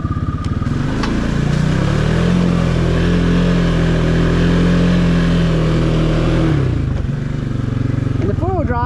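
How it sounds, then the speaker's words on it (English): A 2024 Can-Am Outlander Pro HD7 XU ATV in four-wheel drive claws up a steep climb out of a soupy muddy water hole, its engine revving hard and steady with wheel spin, loud and close, briefly easing near the end. "this is a steep climb out of this water hole, and it's getting pretty soupy, so I'll have a good bit of wheel spin"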